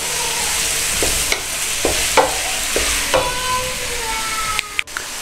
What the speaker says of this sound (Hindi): अब हम इसमें चिकन डालेंगे तो इसको फ्राई करेंगे अच्छे से गलने तक।